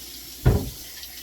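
Running tap water rinses a washcloth during a face wash, heard as a single short gush that swells and fades within about a quarter second over a quiet background.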